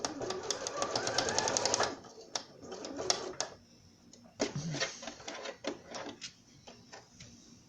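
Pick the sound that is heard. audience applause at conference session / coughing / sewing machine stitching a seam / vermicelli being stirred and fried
sewing machine stitching a seam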